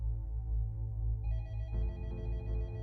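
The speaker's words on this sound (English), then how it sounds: "he got a phone call in his office" Telephone ringing sound effect: a continuous electronic bell-like ring with layered tones that shift partway through, steady and fairly quiet, heard alone.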